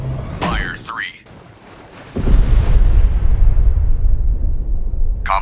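Depth charges from a WWII destroyer explode underwater in a U-boat hunting naval simulation game, giving a heavy, booming roar that rumbles on for several seconds after brief radio-style voices.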